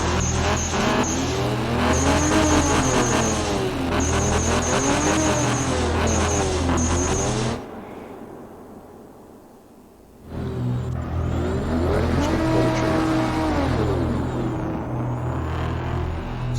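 A car engine in the Night Runners video game revs up loudly and steadily, drops away into a brief near-silent lull, then returns just as strong with continuous revving and rising pitch.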